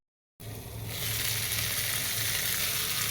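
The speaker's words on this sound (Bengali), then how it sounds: "তো চল আলুটা ভেজে নিই।" Potatoes frying in a pan, a steady close hiss and sizzle that swells up quickly after a moment of silence and holds even, with no talking.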